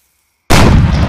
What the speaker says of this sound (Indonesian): Seperti apa ledakan dinamitnya guys